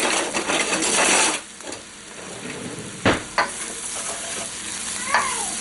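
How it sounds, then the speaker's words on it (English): Flour sizzles in a hot pan for gravy while a wooden spoon stirs and scrapes close by, with a few sharp knocks of the spoon against the pan over the steady frying hiss. "And cook the flour so that the gravy doesn't taste like raw flour."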